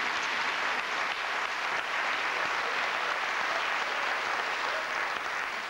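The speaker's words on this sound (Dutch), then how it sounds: "En uiteraard krijg jij, omdat je gewonnen hebt, een fantastisch applaus." A TV studio audience at a 1993 Flemish quiz show gives the winner a dense, even round of applause, loud and continuous from start to finish with no talk over it.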